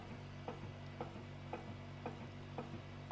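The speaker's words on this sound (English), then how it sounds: "the machine is actually making a pumping noise" A cavitation beauty machine's suction pump runs with a soft, regular mechanical pulsing, a faint clicking throb repeating about twice per second over a low steady hum, quiet and close.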